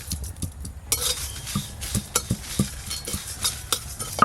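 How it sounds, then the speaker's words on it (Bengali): Whole cumin, fennel, coriander, garam masala and dry red chilies being lightly fried in a pan, heard as a run of close metallic scrapes and clinks from stirring over a soft, steady frying hiss, with no talk. "গোটা মশলা হালকা করে ভাজা হয়ে গেছে"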